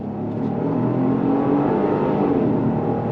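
A 2026 Genesis GV70 luxury SUV in Sport Plus mode accelerates hard, its engine droning steadily and rising in pitch over a continuous road and tire rush heard from inside the cabin.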